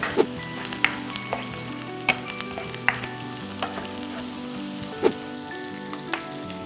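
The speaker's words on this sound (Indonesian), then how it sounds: "Lalu kita akan goreng bareng sama cuminya yang udah direbus tadi ya. Ini kita goreng sampai cukup kering." Garlic, shallots and boiled anchovies fry in oil with a steady close sizzle, crackling and scattered pops, alone without talk.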